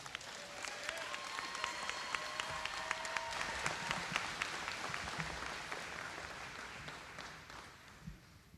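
Sustained audience applause fills a high school graduation ceremony, a dense wash of many hands clapping steadily for about eight seconds with occasional cheers and tones, slowly thinning toward the end.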